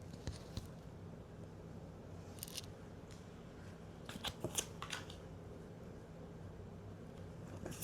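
Tarot cards are handled close by in a quiet room: faint, scattered crisp snaps and flicks, with a cluster of quick card clicks near the middle and end, no voices.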